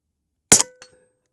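A single sharp report from a Huben K1 .22 air rifle, loud and close, with a brief metallic ring afterward and a faint small tick shortly after.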